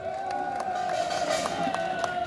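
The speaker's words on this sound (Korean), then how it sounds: "함께 박수 한 번 더 부탁드리겠습니다" A crowd at a Korean Marine Corps veterans' rally opposing a special counsel cheers and claps continuously, a dense sustained roar with scattered whoops and a steady tonal hum running beneath it.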